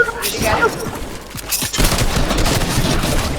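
Dual Exotic Hop Rock pistols fire in a shooter video game, a dense run of sharp gunshot bursts mixed with loud game noise and team chatter, close and steady throughout.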